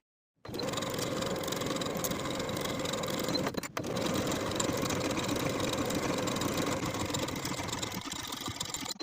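A sewing machine stitching a seam on a colorblock bodice runs in a fast, steady mechanical whir. It starts after a brief silence, pauses for an instant, then resumes and continues close and even.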